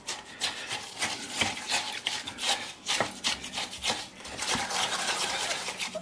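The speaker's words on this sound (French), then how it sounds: "je vais avec une fourchette un peu casser toute cette glace" A fork scrapes and breaks up frozen granita ice in irregular bursts of gritty rasping and crunching, close and fairly loud, with short pauses between strokes.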